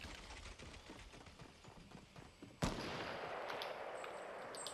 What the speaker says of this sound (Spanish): Pero aquí he oído disparos